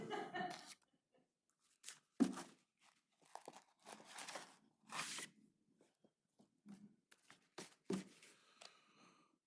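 Paper tearing and crinkling at a city council meeting as an envelope of bids is torn open, heard as several short, close rips and rustles separated by quiet gaps, with no talking.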